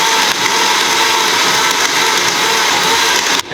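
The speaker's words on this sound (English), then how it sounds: "we're gonna blend this up again one more time" An electric blender whirs through a batch of homemade ketchup, a loud, steady, close grinding roar that holds for several seconds and cuts off abruptly at the end, with no talking.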